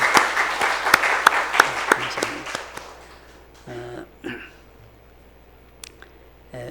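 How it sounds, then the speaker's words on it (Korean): An audience claps in unison, about a dozen sharp rhythmic claps close by that gradually soften and die out after three seconds, followed by a couple of brief murmurs of talk and a stray clap. "우리 더 건강하시도록 박수 한번 하시겠습니다"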